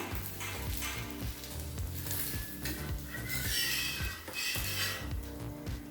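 Paneer masala dosa crisping with butter on a hot pan, a steady close sizzle running throughout with faint stirring and scraping touches, no talk over it.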